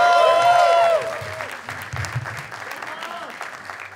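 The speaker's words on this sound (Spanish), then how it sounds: "Fuerte el aplauso," Audience at a comedy roast show clapping, a burst of applause that fades after about a second into lighter scattered clapping, with voices over it.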